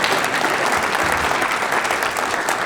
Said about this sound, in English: So a round of applause for everyone else